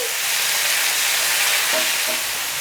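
Two medium sliced tomatoes dropped into hot oil in a pan for hotel-style kara chutney, giving a steady loud sizzle and hiss throughout with no talking.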